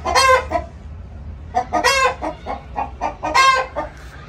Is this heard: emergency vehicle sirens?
no